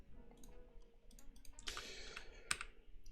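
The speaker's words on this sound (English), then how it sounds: "this other keyboard I've got going on here, it's a little quieter, a little chiller" A quieter computer keyboard being typed on, soft scattered key clicks at low level with a brief denser burst of keystrokes midway and one sharper click, heard close in a quiet room.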